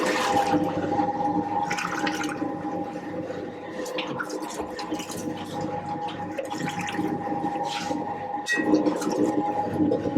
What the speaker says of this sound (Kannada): ಕುದಿಸ್ಕೊಂಡಿದ ನಂತರ ಈಗ ನೀರು ಹಾಕ್ಕೊತಾ ಇದ್ದಾರೆ.